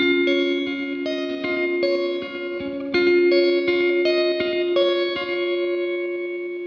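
Electric guitar plays an intro riff as a steady stream of evenly picked single notes, clear and close, coloured by a chorus-like effect with light echo.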